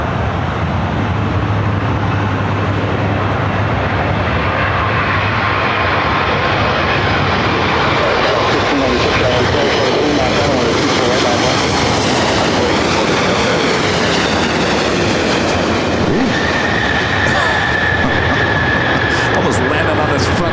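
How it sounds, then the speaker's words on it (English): Japan Airlines Boeing 787 Dreamliner arriving from Tokyo Narita and touching down at LAX, a loud, broad jet roar that fills the whole stretch, with a rising whine near the end. "Up next is that Japan Airline Dreamliner coming up from Tokyo Narita"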